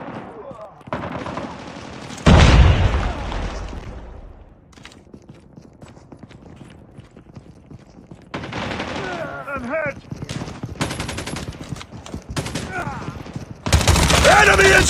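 Gunfire and a grenade blast in the mobile shooter game Call of Duty Mobile, with a loud burst near the start followed by repeated rapid shots and bursts of fire that continue to the end.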